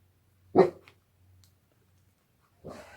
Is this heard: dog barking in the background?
yes